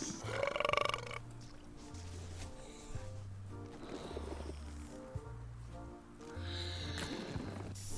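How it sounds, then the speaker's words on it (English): A burping contest in the Return to Monkey Island video game: a coarse belch at the start, followed by a low rumbling stretch, all under a looping game music bed. "how about a burping contest?"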